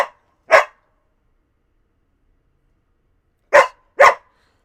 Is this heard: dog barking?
yes